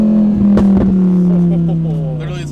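Audi R8 V10 Plus with an aftermarket exhaust revving, a loud steady low drone that swells and then fades, with people talking over it.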